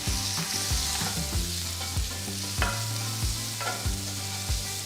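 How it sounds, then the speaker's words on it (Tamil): Chopped onion fries in a pan with a steady sizzle while a utensil scrapes and stirs in a regular rhythm of sharp knocks, close and clear, without voices. "இதில் நறுக்குன ஒரு பெரிய வெங்காயம் போட்டு கிண்டுங்க."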